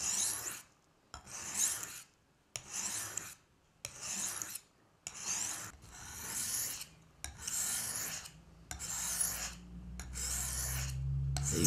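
A work knife is drawn along a long sharpening stone in about eight steady rasping strokes, each a rough scraping rub separated by short pauses, close and clear with no speech.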